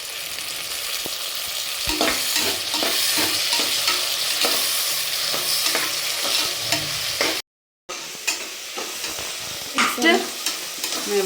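Onions and tomatoes sizzle steadily in a pan while a spoon stirs them in repeated scraping strokes, loud and close, with a brief dropout partway through; no one speaks.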